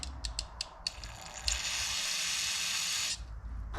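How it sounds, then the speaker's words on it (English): A few quick short spray bursts, then a steady hissing aerosol spray held for about two seconds before it cuts off. "Spray a little in here"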